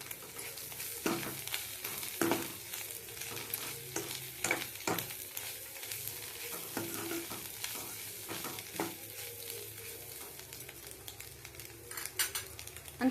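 Biryani masala, garam masala and egg masala being stirred together in a frying pan, with a quiet sizzle beneath repeated spoon scrapes and clanks against the pan, no talking.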